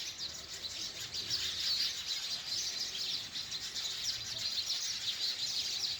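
Sparrows chirp in a tree-lined village, a steady stream of quick, bright tweets from several birds at once, moderately close and continuous, with no talking.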